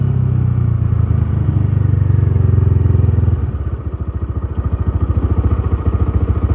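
A motorcycle is ridden without using the clutch, its engine loud and close, first a steady drone and then a lower, pulsing throb as the revs drop.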